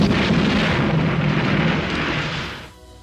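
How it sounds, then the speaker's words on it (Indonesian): A German tank fires and blasts open the doors of a bank in a war film, a loud sustained roaring explosion that rumbles on for over two seconds before cutting off to quiet. "Ledakan dari tank Jerman lantas membuat pintu bank terbuka."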